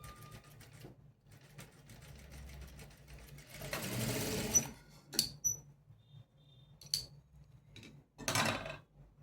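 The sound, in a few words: sewing machine stitching a blouse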